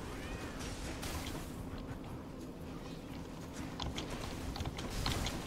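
Cat enemies meowing in the video game Hades, several synthetic meows and yowls mixed with mechanical whirring and clanks amid game music.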